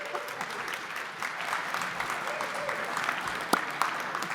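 Audience applause at a resources ministers' breakfast event, a sustained, moderately loud clapping from a room of attendees with a few sharper claps standing out.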